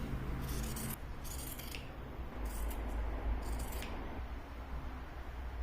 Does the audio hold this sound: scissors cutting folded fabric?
yes